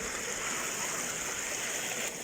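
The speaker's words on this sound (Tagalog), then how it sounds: "ang sarap po pakinggan ang tunog ng daloy ng tubig" Continuous rushing of river water in a desert, a steady bright wash of flow with no voices.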